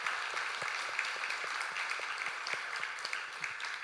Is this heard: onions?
no